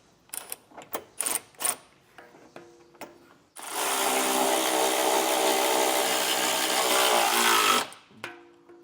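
A power tool snugs down factory bolts during a trailer hitch installation on a 2025 Jeep Wrangler, a sustained loud whirring run of about four seconds framed by scattered clicks and metallic clatter.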